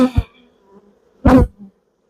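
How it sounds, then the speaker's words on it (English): Honeybees crowd the edge of an open hive, buzzing in two short, close bursts separated by near silence. "Quite a few bees on the edge, so I should be careful and slide it back as slow as I can so no one gets hurt."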